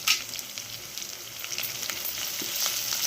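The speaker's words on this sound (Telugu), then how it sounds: "ఉల్లిపాయలు, పచ్చిమిరపకాయలు బాగా వేగిపోయాయండి" Onions and green chilies frying with turmeric and curry leaves in a pan, with a steady, moderately loud hiss and crackle and a few faint utensil taps.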